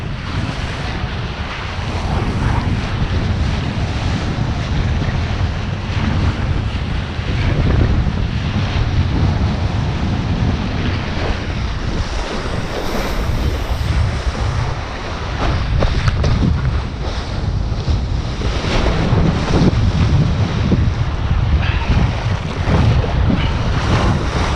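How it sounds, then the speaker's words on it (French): Gusty wind roars constantly against the microphone while waves surge and wash during a kitesurfing session on open water, a loud, continuous, blustery rush. "Vraiment ultra rafaleux."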